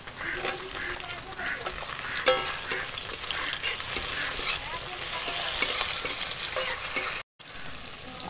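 Chopped tomato and green chili fry with browned onions in fish-frying oil, a close sizzle broken by repeated scraping and stirring strokes of a spatula, with a brief break near the end.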